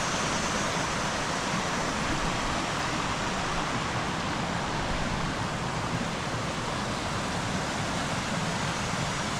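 Waterfall at Falls Park in Sioux Falls, a dense continuous roar of rushing water, loud and steady from start to finish with no voices.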